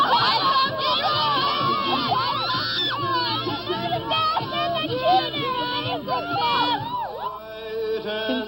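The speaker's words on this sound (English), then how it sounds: "Since there's been music aimed at young people, there have been screaming fans." A crowd of young fans screams and shrieks continuously, a dense, loud wall of high-pitched girls' voices with overlapping cries and cheering.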